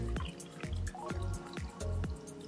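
Roughly 330 millilitres of water is poured into a container while mixing a homemade sports drink, making a close, steady run of gurgling splashes in a regular pulsing rhythm, with no voices.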